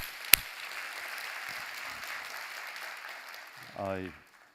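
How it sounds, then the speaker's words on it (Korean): A Korean church congregation at a Sunday sermon gives soft, diffuse applause in praise of God, a faint even patter that gives way to a brief tonal voice near the end. "우리 하나님께 감사와 영광의 박수 올려드리겠습니다."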